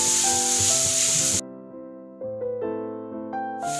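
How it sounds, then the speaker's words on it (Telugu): Onions fry in a pan with a bright, hissing sizzle for about a second and a half, then give way to music before the sizzle briefly returns at the end. "ఆనియన్స్ ని వేసుకొని కొద్దిగా ఫ్రై చేసుకోవాలి"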